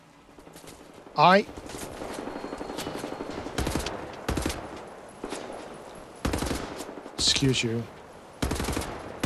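Heavy automatic gunfire in Wolfenstein: The New Order comes in several loud, close bursts separated by short pauses, with someone speaking briefly in between.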